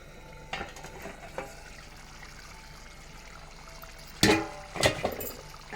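Potato curry with added water simmering in a pan on the stove: a faint, low bubbling hiss runs throughout, broken by a few sharp spoon scrapes and clinks against the pan near the end.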